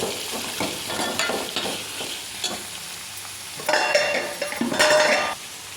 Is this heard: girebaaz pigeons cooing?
no